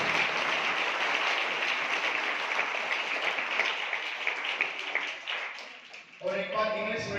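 Sustained crowd applause from an audience at a gathering honoring Shivani ji, dense and steady clapping throughout that dips briefly near the end before swelling again with some voices mixed in.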